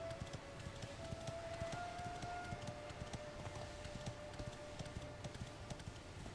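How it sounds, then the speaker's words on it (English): Rapid hollow hoof clip-clops of a horse at a brisk pace in the video game Dragon Quest 11, steady and continuous, with a faint tonal whine running underneath. "I do like that clip-clop noise"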